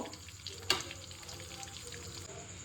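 Whole cinnamon, cardamom, clove and black pepper fry in oil over medium heat, giving a faint, steady sizzle with a single sharp crackle or pop near the start.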